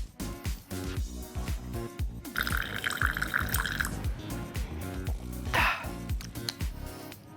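Liquid pours in uneven trickles and drips from a bottle through an electronically driven valve fitted to the bottle cap of a drink-pouring robot, with steady background music underneath.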